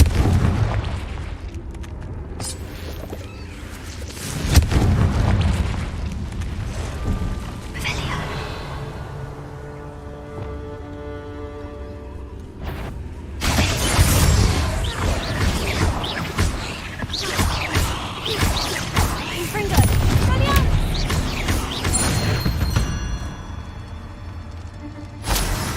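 Confringo fire spells burst with heavy booming blasts in the cave of the wizarding game Hogwarts Legacy, several explosive impacts spread across a stretch of fighting, with a voice speaking in between and crackling magical effects.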